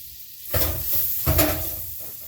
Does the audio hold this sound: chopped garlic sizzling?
yes